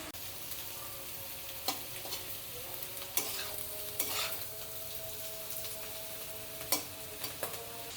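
Chow mein ingredients stir-fry in a pan with a steady sizzle, broken by sharp spatula scrapes and clicks at irregular intervals, close and moderately loud, with no voices.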